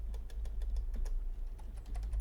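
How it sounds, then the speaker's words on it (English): Quick, irregular keystrokes on a computer keyboard, tapped at close range as a poll is typed during a Digimon World 3 randomizer session, a steady patter of clicks with no talking. "Give me a sec, guys. I'm making a poll. which requires typing"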